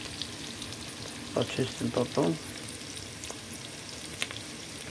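Food sizzles steadily in frying pans on a home stove while lentil and rice soup is being made, a continuous close hiss with a brief stretch of talk over it midway.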